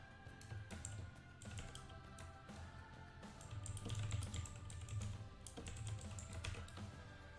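Quick, fairly steady clatter of fingers typing on a computer keyboard, soft and close with small pauses between bursts of keystrokes, no talking.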